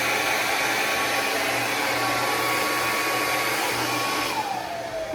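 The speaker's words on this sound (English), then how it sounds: "Don't use a bonnet dryer for a protein treatment like this." A bonnet hair dryer runs with a steady, loud whooshing drone, its tone dipping slightly near the end, and no one talks.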